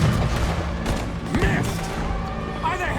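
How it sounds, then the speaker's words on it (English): Loud cannon fire at a warship in the video game Red Dead Redemption 2, with heavy booming blasts and crashing impacts over a dense, continuous game soundscape while voices talk throughout. "you are tasked with using the cannon to destroy the warship"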